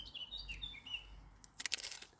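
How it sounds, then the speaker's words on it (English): Small birds chirp and tweet faintly in the background outdoors among flowers, with a brief flurry of brighter, busier calls near the end. "Like bird music in the background"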